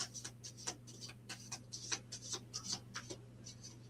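Stiff items being shuffled close to the microphone, a quiet run of short crisp rubs and flicks at an uneven pace with no talk.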